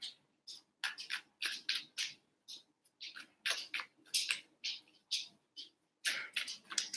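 Pet paws clicking on a hardwood floor, a run of quick, sharp ticks in irregular bursts, fairly close and moderately quiet, with no talking.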